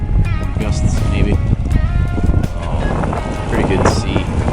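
Strong gusty wind of about 15 to 20 knots roars across a sailboat crossing open water near Lake Okeechobee, a steady loud rush of wind noise buffeting the microphone throughout, with choppy building seas beneath.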